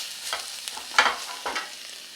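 Beef sizzling gently in a pan over a low flame while making Italian beef sandwiches, a soft, close crackle with a few brief stirring scrapes and no voices.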